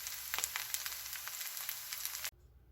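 Deviled potato patties, a vintage 1960s recipe, sizzle and crackle in a frying pan with a dense, steady hiss and scattered pops, continuing alone before cutting off abruptly near the end.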